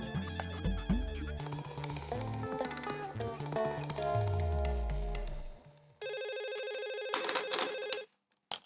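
A telephone rings in a studio sitcom after music and a sliding sound effect, with a steady electronic ring lasting about two seconds before it cuts off.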